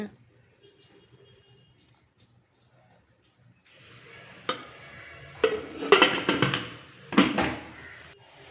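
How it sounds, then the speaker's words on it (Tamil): Mustard seeds, onion, pepper, cumin and dried coriander being tempered in a kadai: a few seconds of near silence, then a steady oil sizzle with louder bursts of stirring and crackling in the second half. "கடாயில் கடுகு வெங்காயம் மிளகு சீரகம் வரமல்லி எல்லாம் ஆட் பண்ணி நல்லா வணக்கலாங்க"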